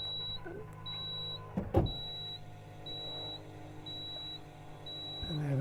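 An electric tow ball hitch on a Land Rover Defender 90 D250 X Dynamic HSE hard top deploys with a faint motor whir and a clunk, while a repeating electronic beep chimes steadily in the background.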